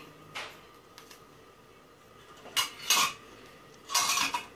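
Semolina and regular flour mixed with a pinch of salt for Egyptian balah el sham, with soft rustling and a few sharp clinks and scrapes against a bowl, quiet between bursts.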